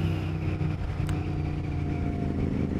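A steady Royal Enfield Continental GT 650 motorcycle engine with a Watsonian sidecar drones close by with a low, continuous rumble, holding a fairly even pitch throughout.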